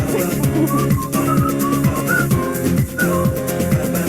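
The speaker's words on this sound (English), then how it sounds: "Whistling is encouraged." Whistling carries a melody over a steady rhythmic music track, several short whistled notes rising above the beat.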